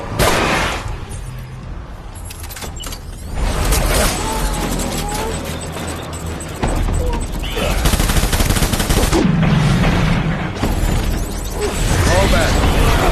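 Gunfire in Death Stranding Director's Cut: bursts of rapid automatic fire and heavier booms crash loudly, broken by short lulls, while voices shout over the combat.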